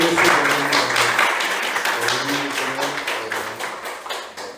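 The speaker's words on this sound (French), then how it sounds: "Nous pouvons applaudir pour donner de la bienvenue." A church congregation in Lille applauds to welcome new visitors: a dense, fairly close wash of many clapping hands that begins loud and slowly tapers off, with faint voices underneath.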